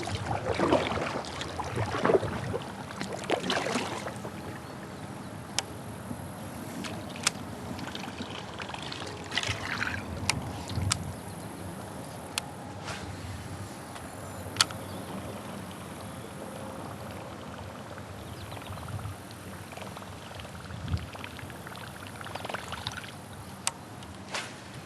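Fast river current rushing past a small fishing boat, a steady broadband wash of flowing water with occasional light knocks and splashes against the hull, fairly close and continuous.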